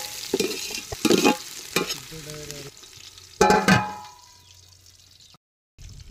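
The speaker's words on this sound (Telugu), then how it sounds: "దోస్తులు పచ్చి వాసన పోయాక వేయించుకోవాలి" Onions and green chillies frying in a pan with stirring and scraping over a steady sizzle, a few louder bursts of spoon-on-pan activity, then a brief silence near the end.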